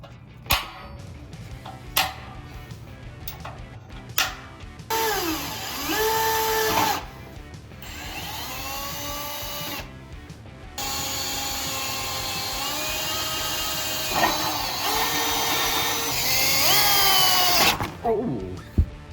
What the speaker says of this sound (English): we're gonna drill a tiny little pilot hole